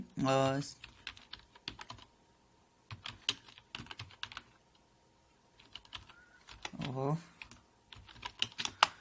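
Scattered keystrokes on a computer keyboard, irregular clicks and short bursts of typing, with someone talking briefly at the start and again partway through.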